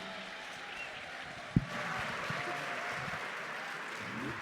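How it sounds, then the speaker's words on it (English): Faint, steady applause from a seated audience at an award dinner, soft and distant, with one sharper knock partway through. "One more round of applause for the band"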